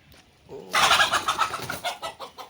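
A pet chicken at a family home clucks loudly and close by, a rapid run of sharp, repeated clucks that gradually taper off.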